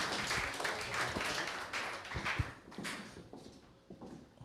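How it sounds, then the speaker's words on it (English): Audience at the Stars of Newcastle 2017 media launch applauds, a faint, fairly distant patter of many hands clapping that thins out toward the end. "Please give a big round of applause to our Stars family, Kim, Mark and Riley."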